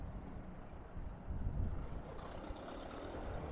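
A trailer truck rumbles nearby on a busy Central Java highway, heard as a steady low engine drone with a swell in the middle, mixed with wind buffeting the microphone during a motorcycle ride.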